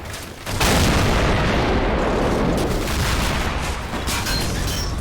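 Heavy artillery booms and sustained machine gun fire in the video game Men of War Assault Squad 2, set on the 1944 Eastern Front, form a loud, dense, continuous roar of gunfire and explosions with no talk over it.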